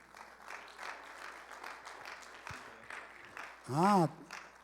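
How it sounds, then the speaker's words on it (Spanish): Faint, distant applause comes from a church congregation after a service, a soft continuous patter in a quiet room, with a short louder vocal sound near the end. "¿Podemos darle un aplauso al Señor?"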